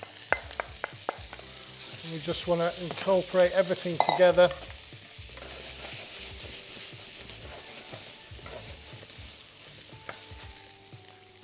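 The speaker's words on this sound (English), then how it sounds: "I'm going to add back this beautiful mix that we've made, and we'll get a nice sizzle." Peppers and sauce sizzle loudly in a frying pan while being stirred, with scraping stir strokes and bubbling that settle into a steady softer fry; a person speaks briefly over it.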